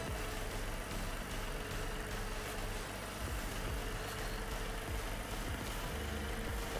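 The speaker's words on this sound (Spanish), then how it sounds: "Aquí el tractor rojo pequeño con los dos remolques se me quedaba muerto" Small red tractor engine labouring while pulling two trailers, a steady low rumbling drone that stays constant throughout at moderate distance.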